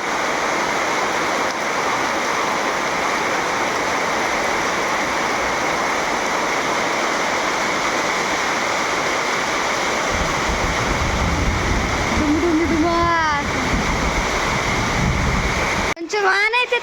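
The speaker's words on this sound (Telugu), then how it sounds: "వర్షానికి కాలువలే కాలువలు కాలువలుగా పారుతున్న" Steady rushing of rainwater flowing through village channels fills the whole stretch, a broad continuous wash; a faint voice briefly surfaces near the end.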